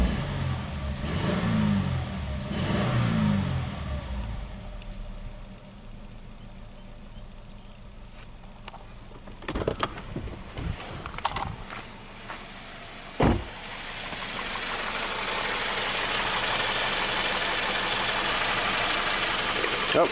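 Subaru car with a six-speed manual gearbox idling smoothly after repair, a steady low engine hum with a few clicks and knocks from nearby handling, the idle noise thickening toward the end.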